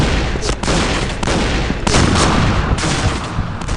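Loud, close video game gunfire, several heavy shots and booming blasts in quick succession over a dense, roaring background, with no talk.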